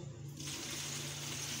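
Boiled water is poured into chillies for a water-based pickle, a steady, close splashing pour that comes in strongly after a brief lead-in and continues evenly to the end, with no one speaking.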